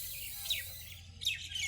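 A pigeon calling near a bird feeder in the evening, two short separate bursts of high calls over a low, steady background hum.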